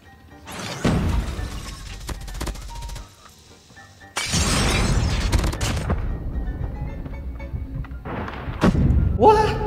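A bomb blast in Call of Duty gameplay: sharp shattering crashes and heavy booming thuds, loud and close, with a burst around the middle and more impacts near the end amid game noise.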